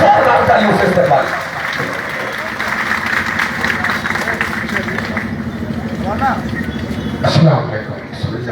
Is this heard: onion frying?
no